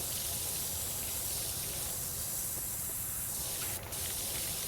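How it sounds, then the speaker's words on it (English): Pressure washer spraying in Powerwash Simulator 2, a continuous loud hissing jet that runs without pause, its tone shifting slightly as the stream moves across surfaces, with a brief dip near the end. "Spray that a little. Kind of get the corners."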